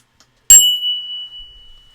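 A bell is rung once with a sharp strike, its bright metallic tone lingering and slowly fading over about a second and a half, loud and close, alone.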